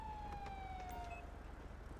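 Police car siren in the LSPDFR video game, a faint, distant falling wail that fades out within about a second over a low engine hum.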